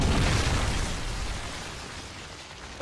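A Predator missile explosion in Modern Warfare 3 during team deathmatch: a loud, dense rumbling blast right at the start that slowly decays into a low roar over about three seconds, with no talking.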